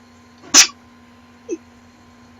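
A single short, sharp sneeze bursts out over a quiet background hum during a Rimworld gaming session, followed by two faint small vocal sounds.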